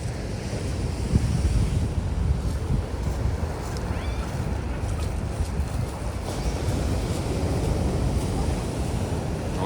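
Sea waves roll and break continuously on the Adler shore near Sochi at sunset, a loud, steady surf roar mixed with gusty wind buffeting the microphone.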